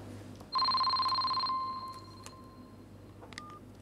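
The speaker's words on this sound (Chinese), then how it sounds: "接个电话啊。" A telephone ringing at home in an indoor drama scene, one loud electronic two-tone ring burst lasting about a second, then fading, with a few faint clicks after it.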